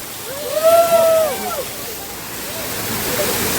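Steady broadband rush of a waterfall at Malshej Ghat in the monsoon hills, constant and fairly loud throughout, with a brief voice rising over it near the start.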